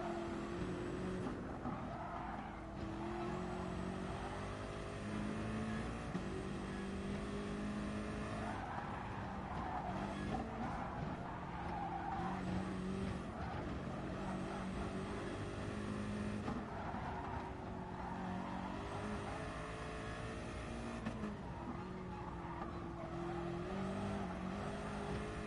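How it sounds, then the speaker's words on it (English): A car in a racing video game cruising in fourth gear, then braking and coasting, a continuous engine hum that rises and falls with tire noise, steady and near, no talk. "he's cruising along, he's in fourth. A little bit of brake, he's just gonna coast."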